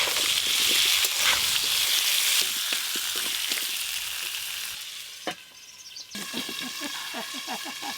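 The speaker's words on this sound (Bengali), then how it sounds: "এবার আলুগুলো ভেজে নেব।" Potato pieces with salt and turmeric fry in hot oil, producing a steady loud sizzle with occasional stirring knocks, settling into a softer crackle and spatter toward the end.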